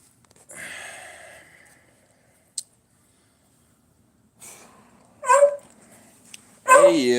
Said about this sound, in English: Hey you, what are you barking at?